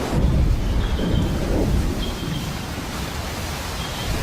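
A loud seasonal thunderstorm over the Wallacea islands: dense, roaring noise of wind and heavy rain with deep rumbling throughout, steady and enveloping, no voices.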